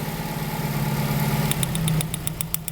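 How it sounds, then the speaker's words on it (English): A 1995 Mitsubishi Libero engine idles roughly with a steady low drone, then a series of sharp, rhythmic clicks or snaps starts up over it, an uneven misfire from a faulty distributor. "you hear the vehicle misfiring"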